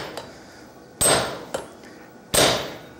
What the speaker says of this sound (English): There's enough heat here. Go ahead and hammer that.